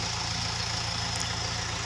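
A Kubota M7040 tractor engine idles steadily at low volume, a constant low rumble with an even pulsing beat and no voices, out in a farm field.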